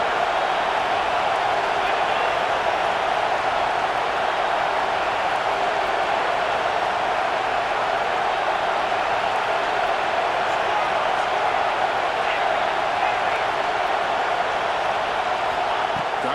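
Stadium crowd noise from the EA Sports College Football 26 video game, during a Georgia playoff game, forms a steady, dense roar that holds at an even level for the whole stretch with no clear breaks.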